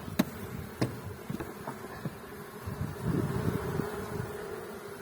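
Honey bees buzz around the hives at an apiary, a close steady drone broken by a few sharp knocks and bumps, with no talk.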